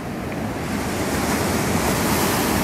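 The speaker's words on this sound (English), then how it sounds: "That is a big wave." Big ocean waves crash and roar on a beach in Miyako, Japan, a continuous loud surf wash with wind buffeting the microphone throughout.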